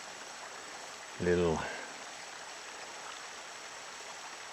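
Moose Creek, crossed by a footbridge on a hiking trail, gives a steady, even rush of flowing water throughout, with one brief spoken word over it.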